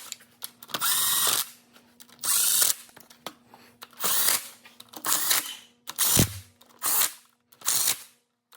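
Power tool removing 13 mm and 10 mm bolts from the front sump oil pan of a BMW M5, close and loud in repeated bursts of roughly half a second to a second, separated by short pauses.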